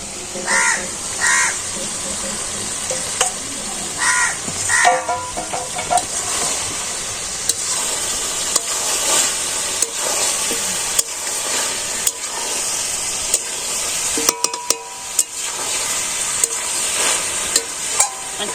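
Mutton curry being stirred in a pan with fried potatoes, a spoon scraping and stirring over a soft sizzle; birds caw outdoors in the background now and then.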